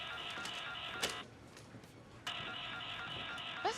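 In a disaster film, an electronic telephone ringtone chirps in two long trilling bursts separated by a pause, fairly loud and alone without talk.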